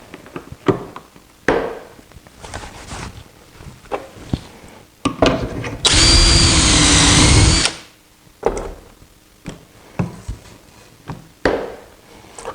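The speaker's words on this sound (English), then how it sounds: "I'm holding the legs on with pocket screws." A drill drives pocket screws into bookcase legs held on a jig, giving one loud sustained whir of about two seconds. Scattered knocks and handling clatter of wood surround it, and no one talks.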